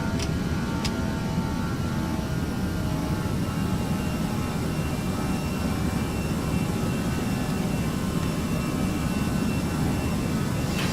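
Airbus A320 jet engines at climb thrust in Flight Simulator X give a steady, loud, even roar that holds unchanged throughout, with no voices.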